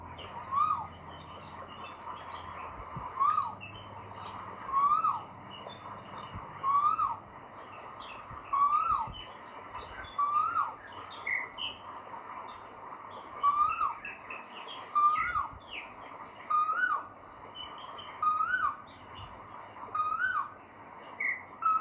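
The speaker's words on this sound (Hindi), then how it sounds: "तो आपने सुना ये कोयल की आवाज़ थी।" An Asian koel calls again and again outdoors, a clear rising two-note cry repeated at a steady pace of about one call every two seconds. It carries loudly over a quiet background, with no voices.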